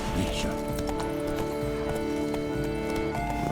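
Roach, the horse in The Witcher 3 video game, clip-clops along at a steady trot with a brief whinny, hoofbeats close and clear over a low ambient bed and background voices.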